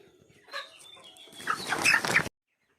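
A 40-day-old broiler chicken, about 1.4 kg, clucks and squawks close by while being weighed on a scale, growing louder and more agitated toward the end, then cutting off abruptly.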